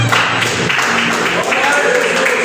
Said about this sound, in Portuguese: Pode se sentar glorificando e exaltando o nome do Senhor com suas palmas